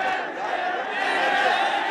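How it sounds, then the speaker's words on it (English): An angry crowd in Pakistan chants, a dense mass of raised voices rolling on continuously, somewhat distant and without clear individual words. "The crowd chanted shame as he walked in"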